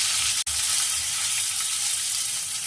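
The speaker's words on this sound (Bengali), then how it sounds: "এই মশলাটা তেলের সঙ্গে ভালোভাবে কষিয়ে নেব" Whole spices such as cumin, cinnamon, cardamom and cloves, with soaked raisins, frying in hot oil for a chickpea dal, giving a steady close sizzle with one brief break.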